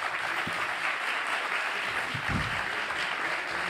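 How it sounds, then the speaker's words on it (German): Audience at a climate-policy panel discussion applauding a panelist, steady moderate clapping throughout with faint low murmur. "Ein Applaus."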